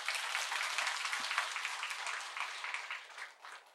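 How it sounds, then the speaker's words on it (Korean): A church congregation claps together in applause, a steady dense patter of many hands that stays fairly even and slowly thins toward the end, with no talking over it. "박수 한번 쳐요. 박수."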